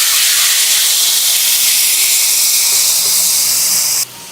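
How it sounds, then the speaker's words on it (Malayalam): Boiling water poured into a pan of roasted vermicelli, making a loud, steady sizzling hiss near the mic that runs for about four seconds and then drops abruptly to a quieter hiss. "ഇനി ഇതിലേക്ക് നമ്മൾ ചേർത്ത് കൊടുക്കുന്നത് തിളച്ച വെള്ളമാണ്."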